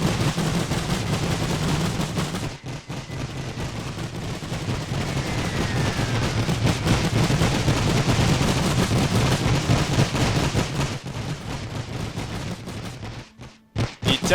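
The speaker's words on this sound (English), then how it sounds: "these guys just come into position, so they will now open fire with their machine guns" Sustained machine gun fire from the World War I strategy game The Great War 6.0, Austro-Hungarian guns rattling in dense rapid bursts over a low rumble, with brief gaps near the end.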